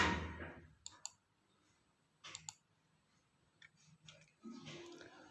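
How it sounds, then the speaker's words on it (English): A computer mouse clicks a few times, sharp and close. The clicks come as isolated ticks and short pairs with quiet gaps between them, alone in a still room. "For this you have to click on this start button, all programs"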